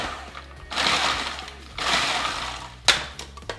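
A food processor pulses biscuits into crumbs for a Malteser slice base: two loud whirring bursts of about a second each, separated by a short pause, then a sharp clack.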